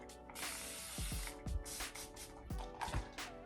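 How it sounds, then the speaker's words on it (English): A spray bottle spritzes water onto a wig in several quick hissing bursts close by, with soft trigger clicks and handling noises between sprays. "spray it with water"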